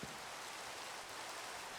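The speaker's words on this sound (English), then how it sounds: "Oh my gosh, guys! It's actually raining." Steady Minecraft rain in the Skyfactory modpack, a soft even hiss of falling drops that holds at a constant level throughout, faint and unbroken with no voices.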